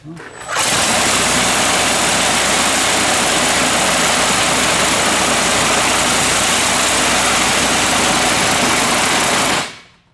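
A Toyota 1JZ VVT-i engine in a 240sx drift car runs at steady idle, a loud, continuous buzzing roar that starts abruptly, holds unchanged for several seconds, then stops.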